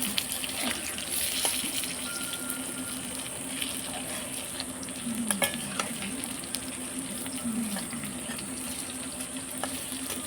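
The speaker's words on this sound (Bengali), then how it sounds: "প্রত্যেকটা বড়াই দিয়ে দিচ্ছি তেলের উপরে।" Fritters of gram flour and rice flour with gime greens fry in oil, a loud continuous sizzle with occasional scraping and utensil taps over the full stretch.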